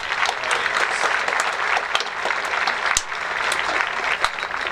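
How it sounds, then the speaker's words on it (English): Applause rolls through a high school graduation crowd, a steady, moderately loud mass of clapping with occasional sharper individual claps standing out. "A round of applause to our folks."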